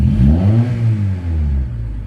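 A Honda Accord engine, repaired after a fault where it cranked but would not start, revs up loudly and close, its pitch climbing and then falling back in one smooth sweep.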